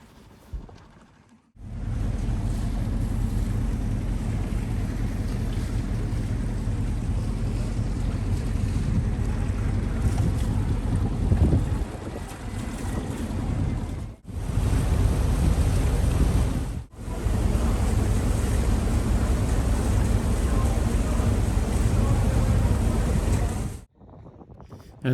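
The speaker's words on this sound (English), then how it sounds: "I've switched to the motor now" A sailboat motors through the Thames estuary, its engine a steady low drone heavily mixed with wind buffeting the microphone and rushing water, loud and continuous with two brief dropouts.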